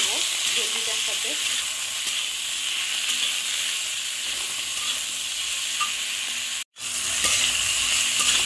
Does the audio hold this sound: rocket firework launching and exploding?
no